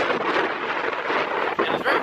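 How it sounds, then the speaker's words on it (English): Outdoor wind gusting across the microphone, a continuous loud rushing and buffeting with brief dips, no voices. "and it's very windy if you can hear that."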